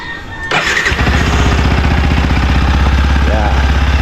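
A motorcycle engine cranks and catches, then settles into a loud, steady, close-up idle with an even rumbling pulse.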